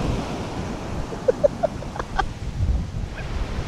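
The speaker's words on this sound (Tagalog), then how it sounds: "sobrang lakas ng ng mga alon. Gawa ng malalakas din yung mga, or malakas din yung hangin talaga dito." Steady wind buffets the microphone over the low rush of strong ocean surf on the Bicol coast, with a few faint bird calls briefly audible.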